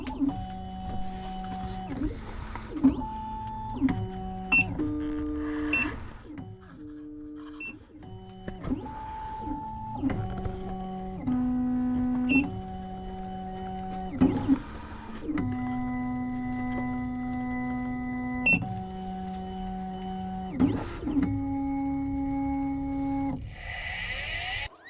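A Black Widow key machine with a 2mm cutter cuts a KW17 Ducati key blank, giving a run of steady electronic motor whines and stepped tonal hums that change pitch in short stages, with brief clicks between them.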